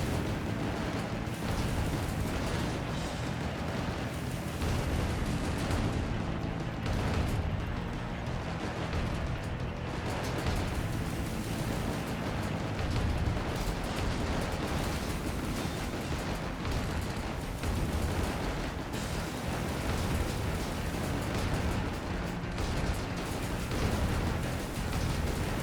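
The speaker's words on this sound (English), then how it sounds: "So I get fire all my front guns and all my back guns" Ship guns fire front and back in the game Fumes, a dense, continuous roar of blasts and rumbling booms that stays loud and unbroken throughout.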